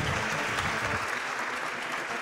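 Steady applause from a crowd during a Legend of Zelda: A Link to the Past game stream, a dense, even wash of clapping that holds for a couple of seconds without a break.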